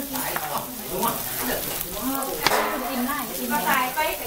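Garlic and chili roast in a hot pan for a Thai spicy salad, a steady close sizzle and crackle with light stirring scrapes.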